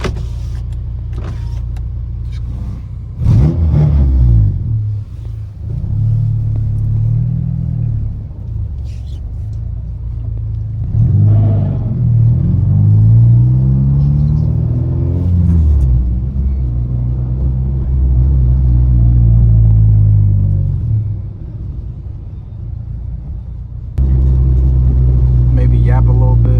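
Acura RSX engine fitted with a Hybrid Racing air intake, a loud low rumble that rises and falls through several revs, with brief clunks and a break midway; a voice talks near the start.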